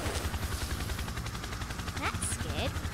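Roblox flight-simulator helicopter (a Bell) powering up to full throttle, a loud steady rotor and engine drone that fills the whole stretch, with a couple of brief higher-pitched chirps near the end.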